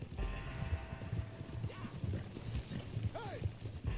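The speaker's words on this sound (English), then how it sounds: "Ooh, that's a hefty horse." Horse hooves clopping at a steady walk and a short whinny in the video game Red Dead Redemption 2, close and moderately loud with faint background ambience.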